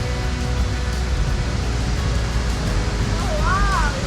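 Upper Cypress Falls near Vancouver, a waterfall about 40 feet high, roars as a loud, constant broadband rush with no break, and a brief whistled or chirping sound rises near the end.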